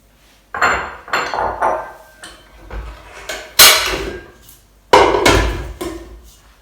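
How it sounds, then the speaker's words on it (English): Soft butter and sugar are beaten for cake batter, with a series of loud, close scraping bursts against the bowl, each lasting about half a second, coming in an uneven rhythm. "I'm going to beat the butter and the sugar for 5 minutes until everything is thick and fluffy"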